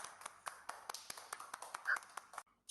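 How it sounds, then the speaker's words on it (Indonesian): Students in a classroom clap together, a quick run of light, close handclaps in steady rhythm for about two seconds, then it stops abruptly. "Kasih tepuk tangan dulu dong semuanya."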